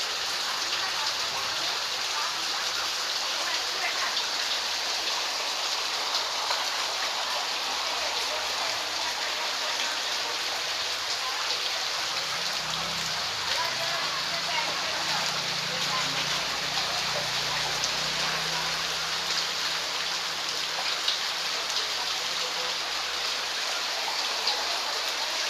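Heavy rain pours onto a Hyderabad street while runoff water rushes through it, a dense, loud, unbroken roar of falling drops and flowing water, with a low rumble rising in the background midway.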